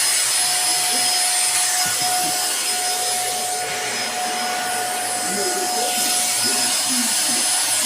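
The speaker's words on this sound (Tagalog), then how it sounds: "Nagpa-vacuum si mama." A vacuum cleaner hums steadily with a constant high whine, while rubbing and scraping noises come and go close by.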